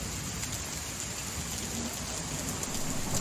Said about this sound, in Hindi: शाम ढलते ढलते बारिश इतनी तेज हो गई कि हर कोने में अंधेरा छा गया।